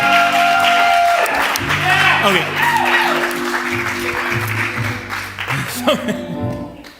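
Applause from the audience at a live comedy and variety show, a broad clapping wash with tonal sound and voices layered over it throughout, fading a little toward the end.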